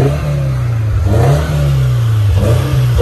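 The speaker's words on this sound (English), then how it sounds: "I'll just see if you can hear the exhaust note for this one." A Toyota 86 GT's exhaust rumbles close and loud, a steady low engine note rising in a few quick revs over three seconds with no talking.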